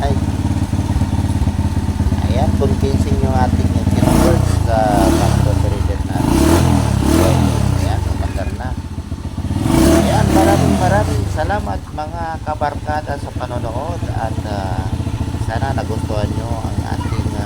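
Restored Blaze 150 motorcycle engine idling after a battery-operated CDI conversion, a steady close putter with a couple of throttle blips, while someone speaks over it.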